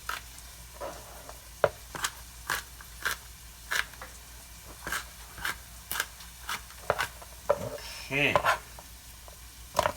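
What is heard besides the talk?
onions and garlic sautéing in a pan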